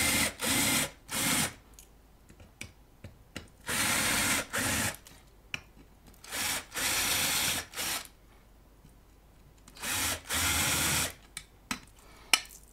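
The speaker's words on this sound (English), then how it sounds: "Also gonna deburr the transformer mounting holes." A hand deburring tool twists through the transformer mounting holes of a Keritech DD-12 amplifier chassis, giving short, close ratcheting scrapes in repeated bursts of a second or so, separated by quiet pauses.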